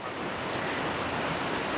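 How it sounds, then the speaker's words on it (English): Steady rain falls in Taipei, a dense, even hiss of drops on surfaces with no pauses, close and moderately loud, without voices. "Rain on the way to work is the worst."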